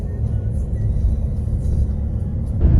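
A car on the road heading home after being repaired by a mechanic in Italy, with a steady low engine and tyre rumble from inside the cabin that swells slightly near the end.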